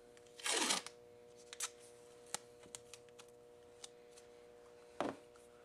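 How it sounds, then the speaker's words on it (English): Strips of tape ripped loudly off a roll while masking a plastic box before spray painting; one long tearing rip near the start, a few short ticks and snaps, then a second quick rip near the end, with no talking. "That way I can always rip off what I want and what I don't want."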